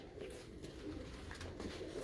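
Soft, low cooing of a Sialkoti pigeon rumbles on steadily, with a faint background hiss and no voices.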